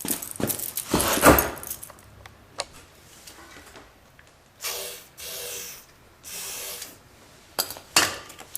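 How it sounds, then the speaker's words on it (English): Short hissing bursts of WD-40 aerosol sprayed onto the threads of a cast iron radiator bushing, two longer sprays and several quick ones, close and quiet, mixed with faint ticks and handling clicks. "get some WD-40 and spray it down."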